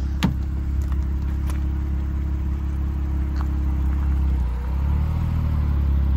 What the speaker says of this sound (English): Goes very well too, this car.